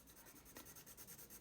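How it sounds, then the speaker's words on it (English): The side of a pencil rubs graphite onto paper in soft, rapid back-and-forth strokes, a faint close scratching hiss with no talk. "to apply graphite like this with the side of your pencil"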